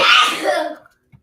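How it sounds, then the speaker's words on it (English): A child's single loud sneeze, close by and forceful enough to sound almost like a yell, bursting out and fading within a second, followed by a tiny faint knock. "that was my child sneezing, but it sounded like he was yelling"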